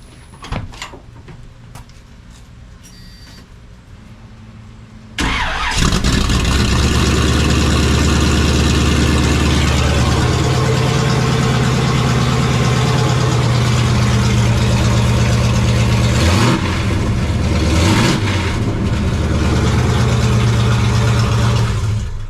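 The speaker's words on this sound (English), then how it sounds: "We got to start it open exhaust." An SUV truck engine with an open exhaust starts after a quiet stretch and settles into a loud, deep, continuous idle rumble with no talking over it.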